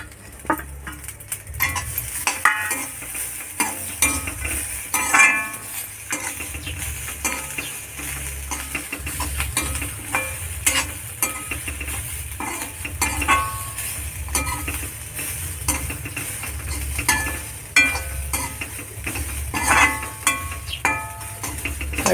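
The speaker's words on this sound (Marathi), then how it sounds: "हे मिरची खोबरं आणि लसूण ही पण थोडी गरम हलकी गरम करून घ्यायची" Chillies, grated coconut and garlic stir and roast in a hot pan for curry leaf chutney, with a steady close sizzle, spatula scrapes and occasional clinks against the metal throughout, no talking.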